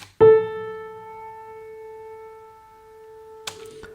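A synthesized A4 note run through a tape-emulation plugin, sounding as one sustained tone with a sharp attack and slight wavering flutter, followed by a short burst of noise near the end.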